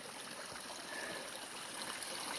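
Water trickling steadily off a rock at a trail water source on the Appalachian Trail, a continuous close splashing hiss with no voices.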